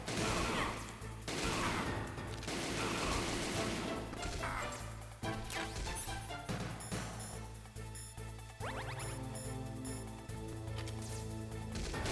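Gunshots and crashing impacts in the retro stealth game Metal Gear Solid, several sharp bursts in the first few seconds, then quieter effects under game music and a droning tone.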